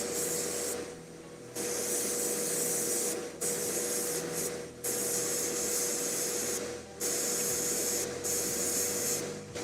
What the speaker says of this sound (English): I'm using a very kind of acute angle on my airbrush here to hit just the tops of his